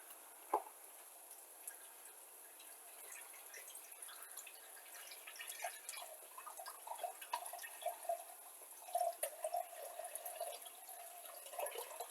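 Water pouring into a soup pot, a thin trickling stream with bubbling and splashing that grows busier toward the end, fairly close and quiet.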